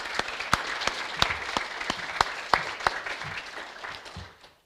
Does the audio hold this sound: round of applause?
yes